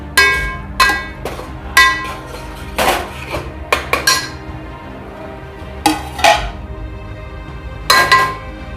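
Spoon clanking against a metal pot while stirring sev tameta masala, a series of sharp metallic knocks and scrapes in uneven bursts with short pauses between, close and fairly loud.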